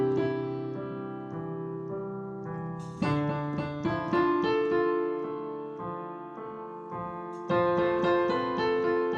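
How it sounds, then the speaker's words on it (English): A piano plays a melody in steady eighth notes over sustained chords, the parts moving through several changes with a new phrase entering near the three-second mark; clear, close and solo, with no talking. "So it sounds like this if I play it with the chords."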